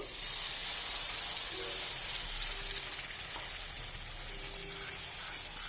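Ground spinach paste goes into hot oil in a pan for palak paneer, producing a continuous loud hiss and sizzle with faint scraping, steady throughout without voices.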